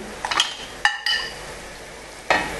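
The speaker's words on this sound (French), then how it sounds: "Je rajoute le concentré de tomate. Je mélange délicatement" Spoon stirring tomato paste into a simmering guinea fowl tajine sauce, a few short scraping strokes and light clinks against the pot over a soft sizzle, close, no voices.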